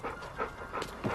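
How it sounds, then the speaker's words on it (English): A dog that turned up in a yard panting quickly and rhythmically during a game of fetch, close and fairly loud, with no talk. "the dog just shows up magically in your yard and you engage him in a game of fetch"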